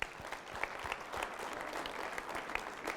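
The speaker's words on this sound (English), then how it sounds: "Give them a big round of applause." Steady applause fills an evening group gathering, a dense wash of many hands clapping at moderate distance, with little talk over it.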